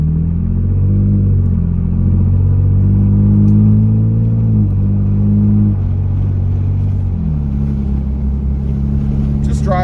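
A Toyota Tacoma fitted with a loud dual exhaust accelerates away from a stop, its engine droning and rising through the gears with a deep rumble heard from inside the cab, steady and loud throughout.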